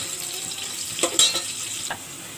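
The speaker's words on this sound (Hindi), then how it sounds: "ये देखिए मेरी प्याज ब्राउन होने लगी है" Onions frying in oil for veg biryani give a soft, close sizzle, broken by a couple of brief stirring scrapes of a utensil in the pan.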